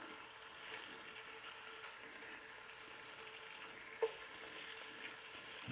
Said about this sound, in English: we're gonna go ahead and cook this bacon for a little bit